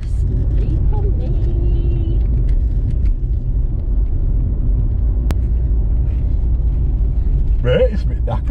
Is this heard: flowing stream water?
no